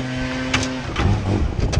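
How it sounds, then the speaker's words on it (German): A lorry pulls away from a tree-care workshop, its engine rising in a brief rev over a steady low rumble, close by and loud, with no one talking. "Deswegen fahre ich jetzt aber eben den LKW weg"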